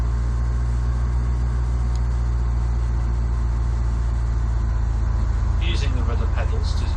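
Cessna 172 engine in Flight Simulator X rises steadily as the throttle comes forward, a loud continuous drone filling the whole stretch with a brief higher rattle near the end.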